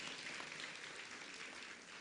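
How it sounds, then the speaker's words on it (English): Faint, steady audience applause at a graduation ceremony for a block of 27 graduating professionals, an even hiss of clapping throughout. "we can give them a round of applause"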